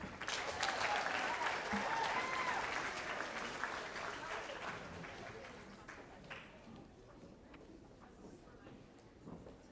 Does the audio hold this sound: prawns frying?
no